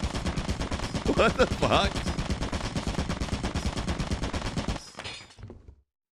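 Rapid gunfire inside the video game Lethal Company, a dense, steady stream of shots running for several seconds and then cutting off abruptly, with a startled voice speaking over it.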